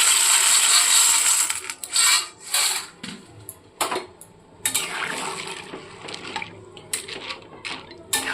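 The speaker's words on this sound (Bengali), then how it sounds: "জলটা গরম হয়ে গেছে এবার পাস্তাগুলোকে দিয়ে দিচ্ছি এর মধ্যে" Dry pasta tipped into a pot of hot water on the stove, heard as a loud rattling clatter of pieces hitting the pot, then a few softer clinks and splashes against a steady background hiss.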